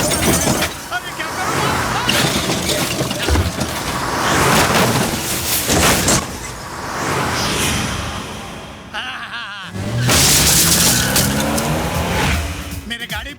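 A driverless car speeds along and skids, engine revving and tires squealing loudly under a busy, dense mix with music and effects, with a brief crash-like burst near the middle.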